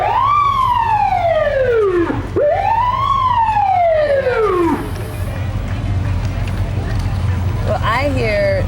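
A State Patrol police car siren at a 2011 rodeo parade gives two long, loud rising-and-falling wails, then breaks into a quick yelp near the end, all over a steady low rumble of engine and crowd noise.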